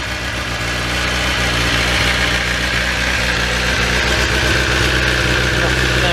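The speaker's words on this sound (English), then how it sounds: "that's the ZX10 firing into life" A cold Kawasaki ZX10R motorcycle engine on its standard exhaust idles continuously, a loud, rough, aggressive low rumble with steady vibration close to the bike.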